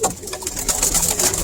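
Pigeons coo close by in a loft, a continuous soft burbling and murmuring of several birds with no pauses.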